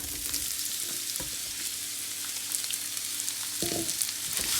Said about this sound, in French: Là j'ai ma poêle qui chauffe avec un peu d'huile. Je vais mettre les courgettes.